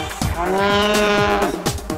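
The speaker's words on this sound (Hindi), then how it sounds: "गाय भैंस रंभाती है" A cow moos once in a long, loud, drawn-out low call set in a Hindi nursery rhyme song, with musical backing around it and no talking.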